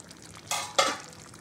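Chicken for biryani being stirred and fried in a pan, two short scraping sizzles about a quarter second apart, close and fairly quiet over a faint background.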